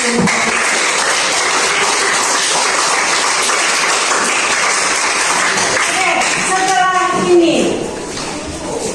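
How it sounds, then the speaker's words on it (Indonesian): Applause from a classroom audience during a teaching session, a sustained wash of clapping with voices mixed in, and a voice rising near the end as the clapping fades. "Tepuk tangan dulu untuk"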